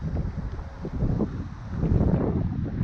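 Strong outdoor wind buffets the microphone in loud, rumbling gusts that swell and ease, building toward the end, with no talk.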